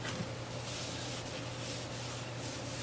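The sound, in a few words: rubbing finish onto the bottom of a wooden piece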